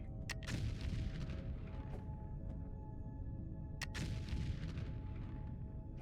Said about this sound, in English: These bombs are great. I like them. They do significant damage.